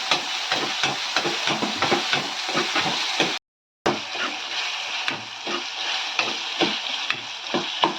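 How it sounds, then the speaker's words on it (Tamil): Dried fish fries in hot oil with a steady, close sizzle, broken by rhythmic stirring scrapes and one brief cut of silence partway through. "எண்ணெயிலே கருவாடு நல்லா வதங்கட்டும்."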